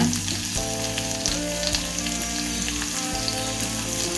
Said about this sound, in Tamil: இஞ்சி பூண்டையும் இதோடைய போட்டுக்கிறேங்க